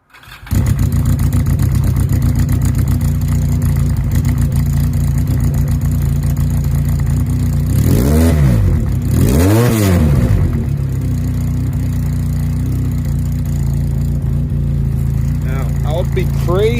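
A motorcycle fitted with an aftermarket exhaust idles with a loud, steady, throbbing burble close by, then revs sharply twice in quick succession around the middle before settling back to idle.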